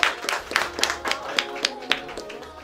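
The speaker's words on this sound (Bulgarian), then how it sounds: "Нека да кажем амин и да ръкопляскаме." A church congregation clapping together, a run of sharp claps in loose rhythm close by, with a voice speaking over them.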